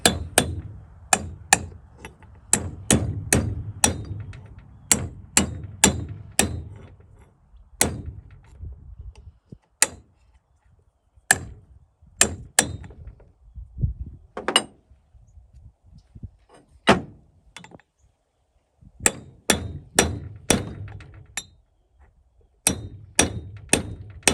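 A length of scrap metal struck against a homemade bale un-roller frame in place of a rubber mallet gives sharp, ringing metallic taps, some in quick bursts and others single, close and loud, with quiet gaps between.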